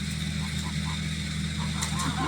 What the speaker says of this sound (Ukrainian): Так, гусі наші ще є.